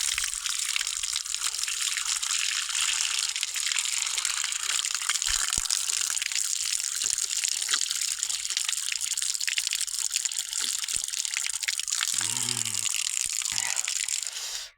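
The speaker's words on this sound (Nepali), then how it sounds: "यस्तो छ है हाम्रो गाउँघरको धारा।" Steady, loud rush of water pouring from a village water tap, a continuous close splashing gush that stays even throughout, with a brief low murmur near the end.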